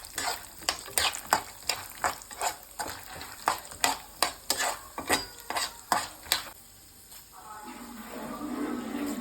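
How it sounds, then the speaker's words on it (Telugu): Peanuts, cashews, chana dal, urad dal, mustard and cumin seeds fry in hot oil, with a steady run of sharp stirring scrapes and clinks against the pan, then the stirring stops and a soft sizzle carries on alone. "ఆయిల్ హీట్ అయ్యాక కొంచెం పల్లీలు, కొంచెం జీడిపప్పు, పచ్చిపప్పు, మినప్పప్పు, కొంచెం ఆవాలు, జీలకర్ర వేసుకొని ఫ్రై చేసుకోండి"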